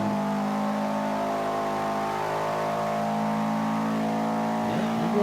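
Engine note of a racing car in the video game Forza 5, a C500 class all-wheel-drive car, droning steadily and loud throughout with a rising pitch near the end as revs climb, no talking over it.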